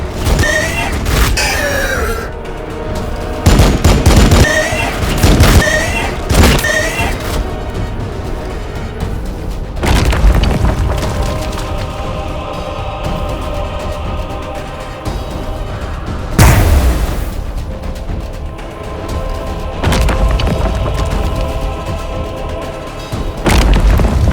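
Warhammer Battlesector cutscene combat: heavy booming explosions and bursts of gunfire, with loud impacts spread across the scene over a rumbling battlefield bed and a few shouted voices in between.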